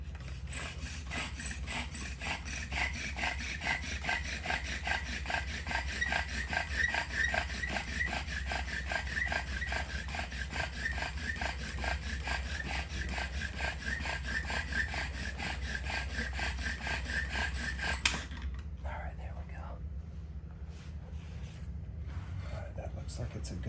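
A wooden spindle rubs steadily in a small-scale fire churn, a continuous rasping friction with a fast regular back-and-forth rhythm, close and loud, stopping abruptly near the end with only faint handling noise after.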